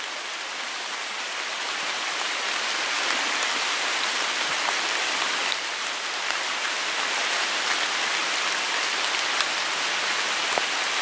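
Heavy rain pouring steadily outdoors beside a dam on a bike route, a dense even hiss of drops hitting surfaces throughout, loud and close, with no talk.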